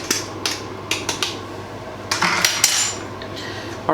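A metal utensil scrapes and clanks against a pot of cooking beans, with a quick run of close, bright scrapes and taps, several in a row, then a longer rough scrape.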